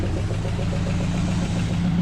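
A Dodge truck's 440 big-block V8 idles low and steady, a continuous rumbling drone with no revving, close and loud.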